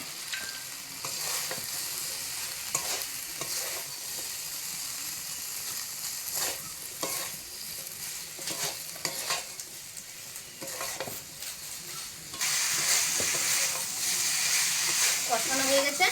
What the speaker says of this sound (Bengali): সজনে ডাঁটা আর আলু দিয়ে দেবো।